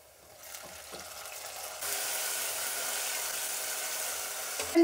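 Tomatoes go into a pan of browned onions, and frying rises to a steady, moderately loud hiss and crackle that continues close by, ending with a brief clatter, with no talking over it.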